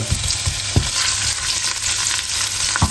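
Shrimp and rosemary fry in a pan with a loud, dense, continuous sizzle and a few light stirring knocks, close by and without talk.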